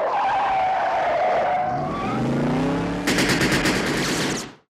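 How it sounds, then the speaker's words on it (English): Car chase from the film Cobra: a loud, sustained tire squeal that shifts in pitch as the car skids, then bursts into a fast, hard volley of gunfire over the engine noise. "The scene in the opening, the car chase."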